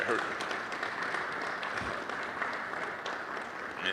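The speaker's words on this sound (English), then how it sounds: "let's everybody give Valencia a round of applause" Audience applauding Valencia Martin Wallace at a Howard University intellectual property discussion, a steady wash of clapping from a room-sized crowd, moderately loud and unbroken throughout.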